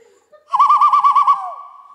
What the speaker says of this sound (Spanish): Eso es un pájaro.